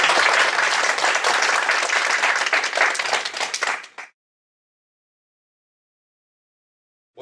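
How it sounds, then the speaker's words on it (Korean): Audience applause after a talk at a Tstore open house event, a dense burst of clapping from a room of people that holds steady, then tapers and stops around four seconds in, leaving silence. "다시 한번 박수 부탁드립니다."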